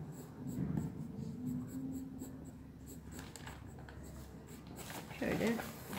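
Pencil scratching on paper while drawing a nine-head fashion design figure, light intermittent strokes, quiet and close, with a person talking over it.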